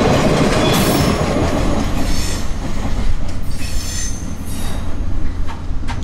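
A tiny four-boxcar train with a caboose-style shoving platform diverges from the main line into a big left turn onto a wye, its wheels squealing in repeated high bursts over a loud rolling rumble and clatter.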